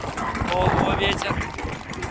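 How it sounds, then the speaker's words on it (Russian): Strong wind at the sea buffets the microphone in loud, gusting roars, with a person talking over it. "Да, на море такой ветер."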